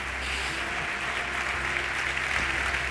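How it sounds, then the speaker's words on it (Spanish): Audience applause at a diabetes technology conference welcoming two doctors onto the stage, a steady, dense clapping from a large hall that holds evenly throughout. "recibimos con un fuerte aplauso al doctor Pedro Pinés y José Miguel Borrachero"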